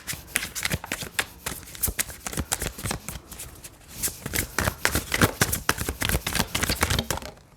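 Tarot cards being shuffled in quick, crisp riffling bursts, a steady run of close papery flutters and snaps with no talking.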